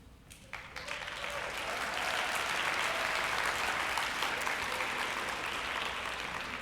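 A convention opening ceremony audience claps, starting thin and scattered, then swelling within two seconds into a broad, sustained roar of applause that holds steady to the end.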